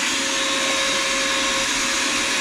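A vacuum cleaner drones steadily with a high whine, sucking up the gritty mess left by a blade sharpener's grinding disc; continuous and loud, with no talking.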